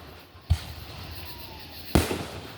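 Fireworks at an outdoor display in Wellsville, Missouri: two sharp, loud bangs about a second and a half apart, each fading into a crackling tail over a steady faint background.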